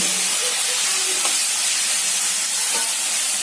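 Chopped taro stem greens are stirred in a hot pan with turmeric and salt. A loud, steady sizzling hiss covers a few faint scrapes of the spoon throughout.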